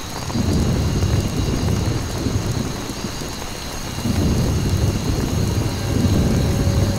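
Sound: thunderstorm with rain in Conflict: Vietnam video game

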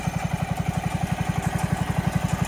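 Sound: 1970 John Deere 140 H3 tractor engine tilling dirt

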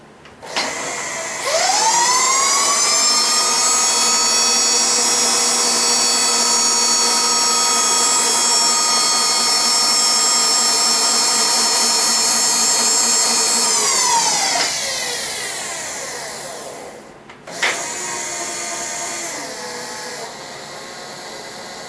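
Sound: fly cutter in R8 spindle machining aluminum

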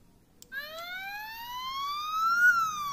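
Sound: Siku toy police boat siren sound

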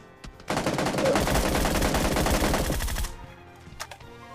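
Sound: gunshots in New State Mobile video game

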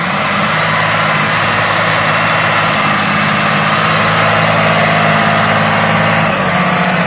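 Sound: tractor engine pulling a seed drill

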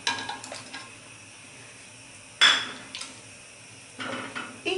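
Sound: adding butter and pudding mix to boiling milk in pot

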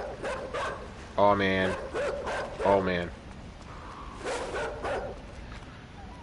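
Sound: dog barking in a video game

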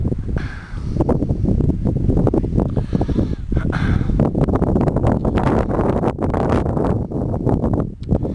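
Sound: wind blowing outdoors in the mountains

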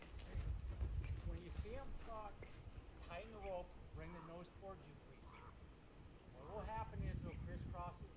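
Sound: horse hooves clip-clopping while being ridden

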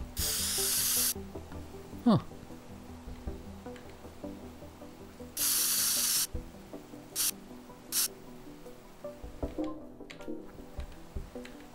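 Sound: spray can spraying paint in the video game Teardown

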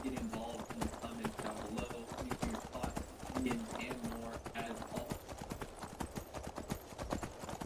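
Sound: horse running in Skyrim video game

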